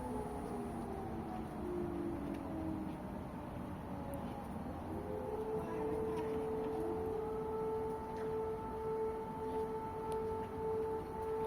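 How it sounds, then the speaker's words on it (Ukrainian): A Kyiv air raid siren wails faintly in the distance, its slow rising and falling tone drifting over steady outdoor city noise on a hot day. "Ось так виглядає київська повітряна тривога."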